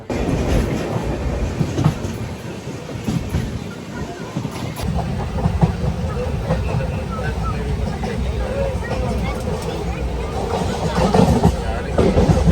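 Vivek Express train from Kanyakumari running on rails, a loud continuous rumble and rattle of the carriage heard from inside, with voices talking over it throughout.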